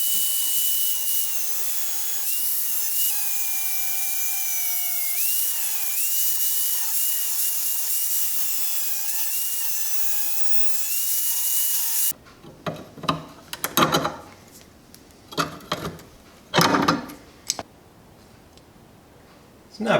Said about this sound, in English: I'm going to use my angle grinder to cut that little extra piece off of